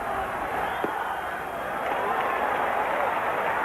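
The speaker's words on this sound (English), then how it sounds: "That got a few woos out of the crowd." Crowd at a baseball stadium during the 1986 NLCS Game 5, a broad sustained roar of cheering and woo-ing heard from a distance, with a brief sharp crack early on and a swell toward the end.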